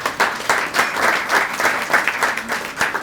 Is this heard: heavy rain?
no